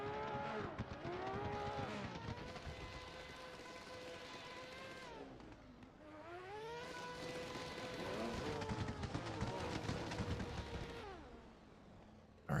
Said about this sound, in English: As we hear there in the background, other drivers leaving the course.